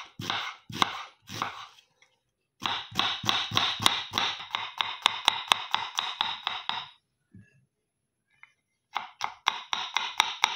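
A knife chops lamb meat on a board for kebab, with lemon nearby. Close, sharp, rapid taps come in quick bursts, pausing once before resuming.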